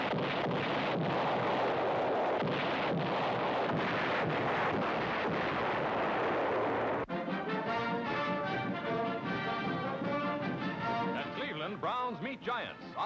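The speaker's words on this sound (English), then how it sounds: "U.S. Marines make perfectly clear to the enemy the advantages of a truce with the biggest rocket barrage of the" U.S. Marines firing a massive rocket barrage in a war newsreel: a continuous roar of launches and blasts, loud and dense, then a rapid stream of distinct whooshing rocket launches under a steady rumble.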